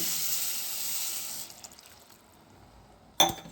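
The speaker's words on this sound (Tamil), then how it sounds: "தேவையான ஒரு டம்ளர் தண்ணி" Water is poured into a pan of tamarind curry, a steady liquid pour that fades out midway, followed by quiet and a brief clatter near the end.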